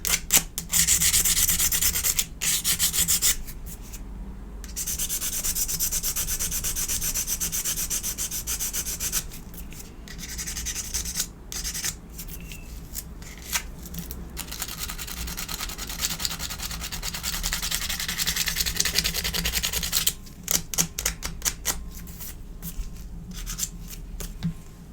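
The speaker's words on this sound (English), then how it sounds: "By sanding the sides. It's actually quite difficult to scratch the new iPhones, which is quite good, but this sandpaper is" Harsh sandpaper scrubs the metal sides of an iPhone 15 Pro Max in steady, loud, raspy strokes, broken by brief pauses, continuing for about twenty-five seconds with no talking.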